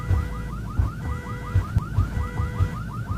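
A repeating electronic car alarm whoop in a Roblox video game, cycling rapidly over a low rumble, steady and fairly loud.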